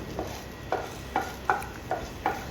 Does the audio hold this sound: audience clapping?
no